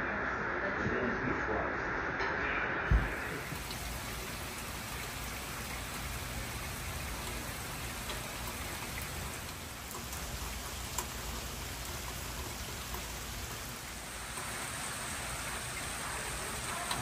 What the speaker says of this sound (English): We got heavy rain coming in.